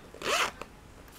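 A top zipper on a 2016 Chanel Wallet on Chain bag is pulled once in a quick, close zip lasting under half a second, followed by a faint click, in an otherwise quiet room.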